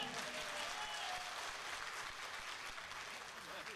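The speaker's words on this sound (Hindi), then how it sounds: "जहाँ बहुमत में जोरदार तालियां बजाएं एक बार" A live audience claps steadily and densely throughout, a sustained burst of applause with no voices above it.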